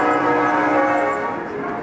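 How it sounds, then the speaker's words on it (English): Church bells in a downtown area ring steadily at noon in a dense, overlapping wash of tones, loud and sustained throughout with no pauses. "the church bells are all going off."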